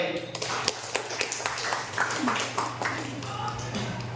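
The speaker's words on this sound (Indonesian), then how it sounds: "Tepuk tangan dulu untuk Ayu." Clapping from a classroom audience during a school teaching session: a few seconds of scattered, moderately loud claps mixed with voices chatting.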